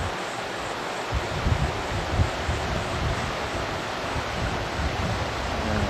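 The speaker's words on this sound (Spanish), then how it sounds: "Se puede escuchar el agua." Rushing water flows beneath a bridge near the Indian Head sign in Korea, a steady broadband wash with no pauses, fairly close and continuous throughout.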